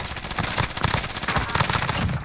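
Fast, repeated gunfire from a video game crackles in a steady burst of sharp shots through the whole short stretch, loud and close with no pause.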